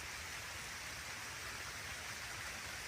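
Steady, soft hiss of light drizzle falling continuously beside a small pond in Bhawal National Park, with no voices.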